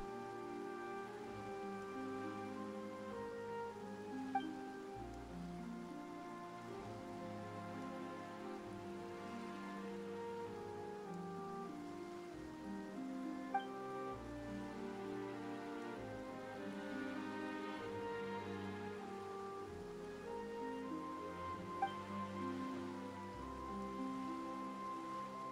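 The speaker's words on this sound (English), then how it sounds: "Why is it raining all of a sudden?" Rain falls steadily in the Genshin Impact video game with a soft, continuous patter, mixed with a gentle, sustained musical background that plays through the whole stretch.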